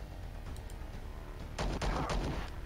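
Gunfire in the video game Star Traders Frontiers, a quick cluster of sharp shots bursting out near the end after a stretch of low background sound.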